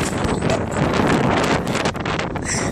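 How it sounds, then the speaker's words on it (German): Strong wind buffets the microphone outdoors beside a camper van, a loud continuous roaring rush with gusty swells and rustling, no speech heard over it. "Der Wind wird immer schlimmer."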